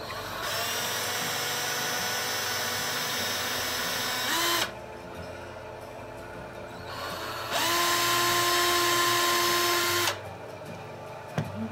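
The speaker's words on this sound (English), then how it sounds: "I'm gonna extend that hole manually just using a drill with the same size drill bit" A power drill whirs loudly in two long bursts into wood with a short pause between, its pitch rising as it spins up and bites in.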